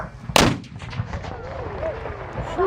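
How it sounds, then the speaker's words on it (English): A Civil War artillery cannon fires a single loud, sharp boom at a battlefield demonstration at Antietam. The boom is followed by a rolling echo and crowd murmur. "we saved the loudest gun for last"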